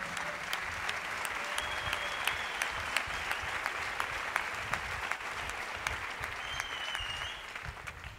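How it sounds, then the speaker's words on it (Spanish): An audience at a drum festival in Seville bursts into steady, dense applause, with a few sharp individual claps standing out over the continuous wash before it begins to thin near the end. "Un fuerte aplauso para todos, por favor."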